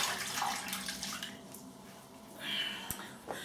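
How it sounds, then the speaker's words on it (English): Water splashes and trickles from a running tap as a face is wetted before a shave, with short close splashes and a couple of sharp knocks near the end. "Let me wet my face."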